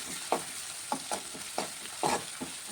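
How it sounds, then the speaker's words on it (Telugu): Ginger garlic paste and turmeric are stirred in a hot pan, with a steady sizzling bed of frying and about half a dozen distinct scraping strokes of a spoon against the pan at an uneven rhythm, close up and with no talking. "కొంచెం అల్లం వెల్లుల్లి పేస్ట్ వేసుకుంటున్నాను. కొంచెం పసుపు వేసుకుంటున్నామండి. దీన్ని బాగా కలిపిస్తున్నాం."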